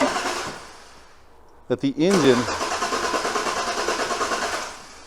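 A truck's starter cranks the engine over in a budget trophy truck build, a short whir followed by the engine catching into a steady rhythmic running pulse, with a brief spoken voice just before.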